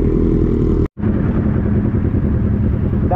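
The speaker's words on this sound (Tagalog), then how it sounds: "And suwabe talaga yung tunog ng Z1000," A Kawasaki Z1000 inline-four motorcycle runs loud and close on a mountain road ride, its steady engine drone broken by a brief cut near the start before resuming.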